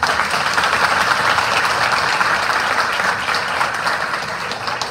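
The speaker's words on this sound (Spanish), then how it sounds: "los que han venido, le damos un aplauso." A church congregation at a priestly ordination claps together in a long, even wave of applause, loud and steady from start to finish with no voices above it.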